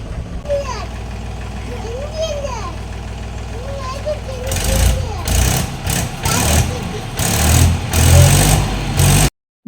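A tractor engine runs on a farm, a steady mid-pitched rumble that grows louder and rougher partway through, with a voice speaking over the first half.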